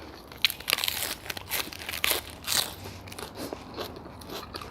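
Close, loud crunching bites of crisp vegetables and lettuce eaten with noodles, a run of irregular crackly chews with no talking.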